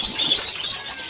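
Rapid high-pitched chirping and twittering from a pair of lovebirds, close and fairly loud, continuous throughout.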